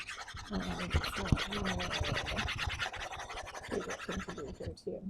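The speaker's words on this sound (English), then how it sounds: "I wish there was a quick way to erase" Steady scratchy rubbing of an eraser dragged back and forth across a board, continuous and close, with short pauses between strokes.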